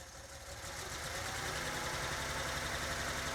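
A Z car engine runs unevenly while its injectors begin cleaning up, a steady rough idle with a faint knocking pulse, close and continuous, slightly rising in level.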